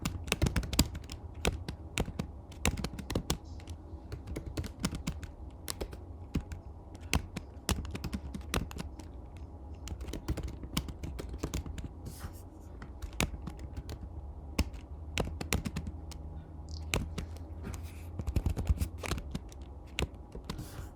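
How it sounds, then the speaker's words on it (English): Steady clicking of keys on a computer keyboard, quick irregular taps spread across the whole stretch at a close, fairly quiet level, with no talking over it. "Let me quickly type this."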